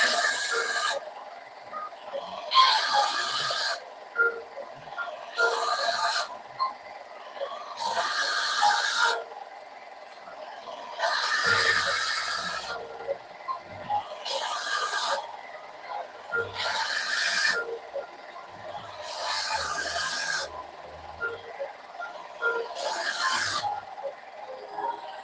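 A heavy-duty coarse-grit grinder works a blacksmith's hammer and box jaw tongs in about ten regular rasping bursts, each a few seconds long, separated by short quiet gaps.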